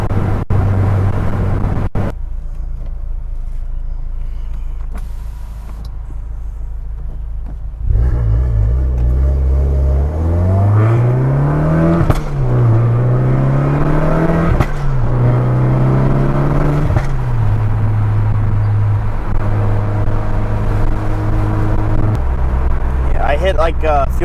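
A turbocharged car accelerating hard in third gear toward a fuel cut around 6,000 rpm: the engine drone climbs in pitch, wavers and then levels off, close and loud, with people talking over it.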